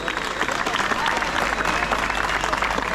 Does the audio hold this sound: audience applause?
yes